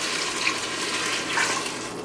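Vegan stock poured into an Instant Pot while making Spanish rice, a steady close liquid splash and trickle running continuously without talk.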